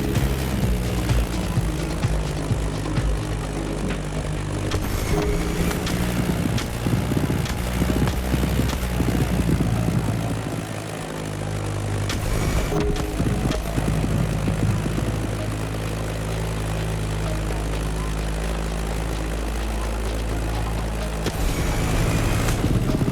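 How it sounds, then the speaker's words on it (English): A Beechcraft Staggerwing propeller biplane drones loud and continuous in The Crew Motorfest racing game, its engine roar steady and close with a brief dip midway. "Beechcraft Stagger Wing is truly a beautiful piece, isn't it? And a great choice for that flight."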